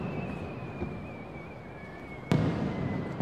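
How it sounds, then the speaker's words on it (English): A single sharp firework burst cracks out near the end of a Japanese summer fireworks show, preceded by a faint rising whistle over a windy outdoor background. "Summer in Japan is fireworks season."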